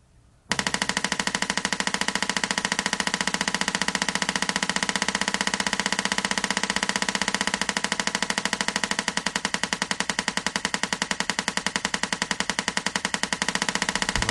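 Mac OS X driving drum sounds over MIDI: a rapid, machine-precise stream of identical percussive hits repeating continuously at an even, very fast rate, steady in level throughout, with no voices.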